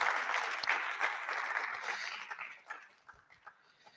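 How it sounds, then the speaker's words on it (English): A lecture audience applauds their chairman with loud, dense clapping that gradually thins out and fades into a few scattered claps near the end. "I think we can encourage him with some more round of applause."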